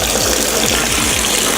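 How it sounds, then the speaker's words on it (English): Water gushes steadily into a trash bin for under two seconds, a loud continuous pouring splash with no voices over it. "I got some water, which I'm gonna pour inside the trash bin"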